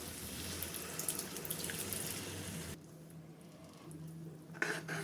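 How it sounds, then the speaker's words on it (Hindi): Water pours steadily into a pot of cooking toor dal and vegetables, a continuous splashing stream that cuts off abruptly, followed by a softer trickle. "इसमें थोड़ा सा और पानी ऐड करेंगे"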